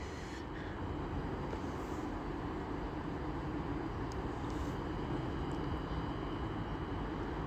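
An Avanti West Coast service pulling out of Stoke-on-Trent station on the West Coast Main Line, a steady broadband rumble of train noise holding evenly throughout with no voices over it.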